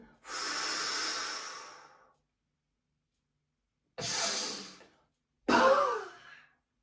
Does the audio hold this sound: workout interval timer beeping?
no